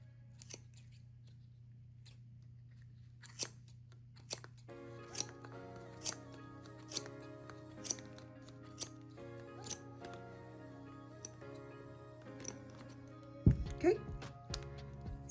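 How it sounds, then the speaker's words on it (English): Scissors snip through strands of yarn for a simple stitch crochet kit, a regular series of about a dozen crisp close cuts under a low hum, followed by a louder handling clatter near the end. "So I'm just cutting straight down the center all the way around the other side. Cut all those strands."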